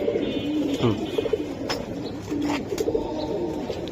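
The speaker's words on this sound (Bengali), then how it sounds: "আমি দেখানোর চেষ্টা করলাম আপনাদেরকে কতটা সুন্দর কবুতর" Silver Giribaz pigeon cooing close by, a few soft, low throaty coos over steady background hum and noise.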